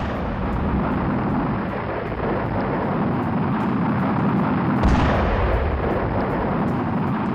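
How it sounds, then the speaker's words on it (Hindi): Air strike explosions near Baghdad airport: a continuous heavy rumble of blasts and fire, with a sharper booming burst near the end and no talk. "बगदाद हवाई अड्डे के पास एयर स्ट्राइक हुई है।"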